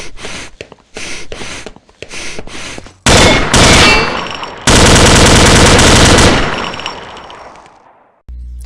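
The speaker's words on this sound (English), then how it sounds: "Grenade!" Gunfire and a grenade blast in the Combat Arms shooter game, with bursts of automatic fire followed by a loud sustained explosion roar that slowly fades, all at close range and loud.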